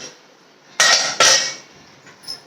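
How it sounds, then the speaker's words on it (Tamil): Two sharp metallic clatters in quick succession as a lid is set down on a cooking pot of boiling water, lentils and cumin, followed by a faint clink. "இப்போ நம்ம இதை மூடி போட்டு வச்சிடலாம்."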